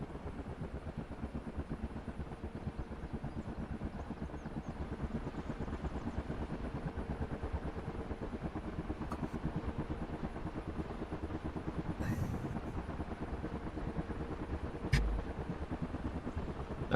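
A helicopter engine in a flight simulator video game drones steadily at a low, even level with a whirring rotor texture, unbroken and alone for the whole stretch.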